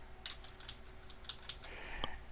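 A few quiet, close keystrokes on a computer keyboard come in a short irregular burst, ending with a slightly firmer tap, over low background hum.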